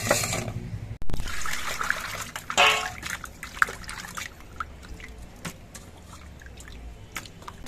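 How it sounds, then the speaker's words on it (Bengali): Small fish rinsed by hand in a bowl of water in a home kitchen: splashing and trickling, louder and busier at first, then softer sloshing and drips with a few sharp clicks, no talk. "এবার মাছগুলো ধুয়ে পরিষ্কার করে নিতে হবে"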